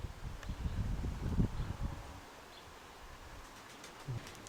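Soft rustling and low cooing-like sounds from pigeons early on, then quieter ambient noise with faint scattered chirps.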